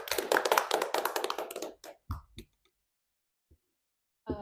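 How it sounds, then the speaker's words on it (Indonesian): Hand clapping from a small group at an indoor podcast recording, rapid dense claps that thin to a few scattered last claps and then silence, with a brief voice starting at the very end. "Tepuk tangan terlebih dahulu."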